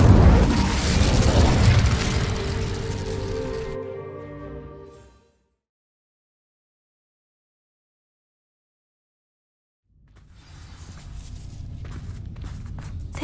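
In Hogwarts Legacy, an Incendio fire spell sets dry vines ablaze with a loud burst and crackling roar that fades out over a few seconds. After a stretch of silence, footsteps and ambient game sounds return.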